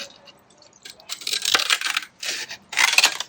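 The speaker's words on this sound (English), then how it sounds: "These mica tiles do cut quite well." Mica tiles being cut with scissors, close by, giving several brittle crackling, clicking bursts separated by short pauses, with no talk.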